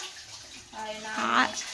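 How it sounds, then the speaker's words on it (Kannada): Water pours from a tap into a vessel, a rushing stream whose pitch rises as it fills, with faint voices nearby. "ತಪ್ಲೆ ತಗೋ ತಪ್ಲೆ ನೀರು ಹಿಡ್ಕೋ"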